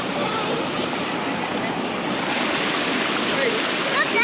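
A creek near Beechworth rushes in a steady, close, full wash of flowing water that fills the whole stretch, with a brief higher squeak near the end.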